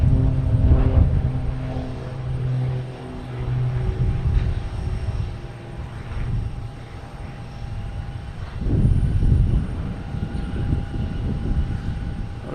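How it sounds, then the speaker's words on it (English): A Cape Air propeller plane departing Boston Logan drones with a low, throbbing engine hum and tonal whine that swells again toward the end, with wind in the background and no talking. "The Cape Air leaving."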